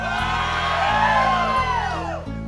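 Audience at a live bar show whooping and cheering, several voices rising and falling in loud sustained whoops over a steady low musical hum, fading near the end.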